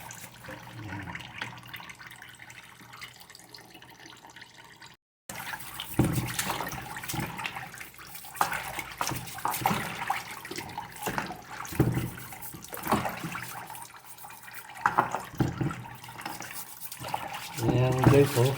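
Goat feet for sinigang are rinsed under running water with close splashing and trickling, and the flow grows louder partway through.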